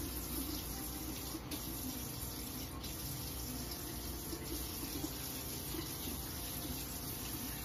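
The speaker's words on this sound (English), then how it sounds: "Add a bit of water in there." Water added to a cup while investing the shank of an eagle ring, a steady wet running sound like a tap flowing, continuous and fairly quiet throughout with no talk.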